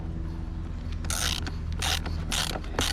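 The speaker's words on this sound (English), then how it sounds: "take your socket wrench and tighten everything back up" Socket wrench ratcheting while tightening an ECHO GT 225 weed eater head, a series of close, crisp clicking bursts repeating in short strokes, alone without talk.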